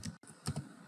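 Quick keystrokes on a computer keyboard, a few soft close clicks in a short burst, with no voice over them.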